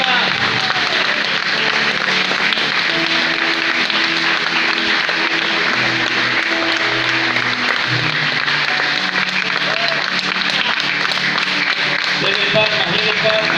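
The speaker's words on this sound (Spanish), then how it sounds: "Dele palmas, dele palmas." A church congregation claps continuously and loudly during an evangelist's sermon, and a voice carries on over the clapping throughout.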